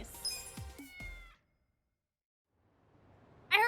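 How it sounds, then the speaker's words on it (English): A cat meows twice in the street scenery of the Yakuza: Like a Dragon video game, the calls clear and fairly near over game music, followed by a quiet stretch and a sudden bright sound at the end. "I heard a cat!"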